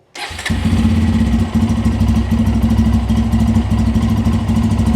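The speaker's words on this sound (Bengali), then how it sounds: "একটু পরেই আমরা আমাদের মোটর সাইকেলটা স্টার্ট দিব" A Bajaj Pulsar N250 motorcycle engine, fresh from an engine oil change, cranks and fires up, then settles into a loud, steady idle with a throbbing low rumble, close by.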